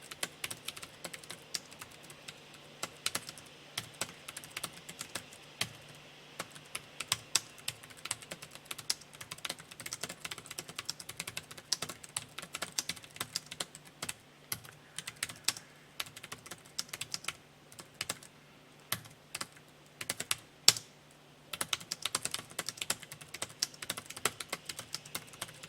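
Continuous typing on a computer keyboard while filling in a Hangul word-processor exam document, with rapid, irregular clusters of key clicks and occasional louder strokes, close and steady for the whole stretch with no talk.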